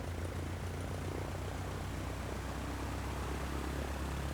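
A Cessna 152 propeller engine in Microsoft Flight Simulator 2020 gives a steady, low, droning hum that stays even throughout at low throttle, with no speech over it.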